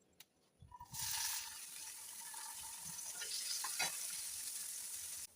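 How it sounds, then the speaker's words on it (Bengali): Potato pieces fry in hot oil in a pan, a steady broadband sizzle that starts loud about a second in and carries on unbroken, with no talk over it. "এবার দিয়ে দেবো আলুগুলো, ভেজে দেবো।"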